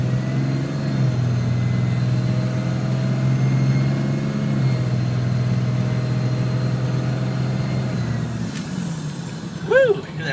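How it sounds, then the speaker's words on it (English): A Dodge truck engine runs loud and steady close by, a continuous deep rumble with a hiss of air near the end. "This thing runs good, really good. It's a Dodge, so it's kind of loud"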